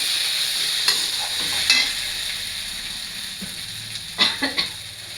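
Potatoes and pointed gourd frying in spiced oil in a pan for a fish curry, a steady close sizzle broken by several sharp clinks and scrapes of stirring, loudest near the end.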